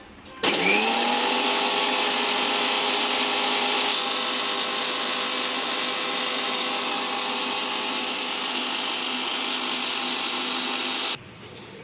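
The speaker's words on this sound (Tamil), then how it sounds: "ஸோ ஆயில் லெமன் சேர்த்ததுக்கப்புறம் மிக்சியில் ஒரு ஓட்டி எடுத்துக்கலாம்" A kitchen mixer grinder whirs loudly and steadily for about ten seconds, blending oil and lemon juice into a sandwich paste, starting abruptly and cutting off sharply, with no speech.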